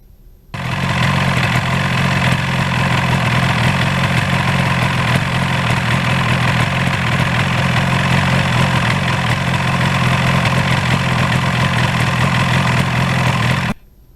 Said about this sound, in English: I love the sound of this bike going through the gears